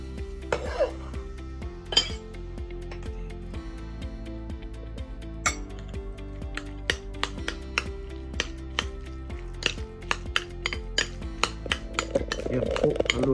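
Mayonnaise and tobiko are stirred in a bowl for a sushi filling, with repeated close clinks and taps of a utensil against the dish in an irregular rhythm over a quiet kitchen hum.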